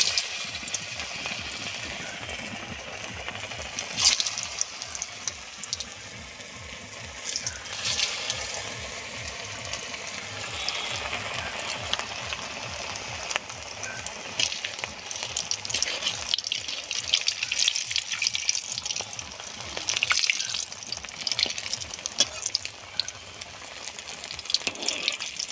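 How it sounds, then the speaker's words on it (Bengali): Prawn-stuffed cabbage koftas fry in white oil in a kadai, a continuous bubbling, watery hiss with faint rhythmic pulsing underneath and no voices. "এবারে আমি কোপ্তাগুলো ভেজে নেব।"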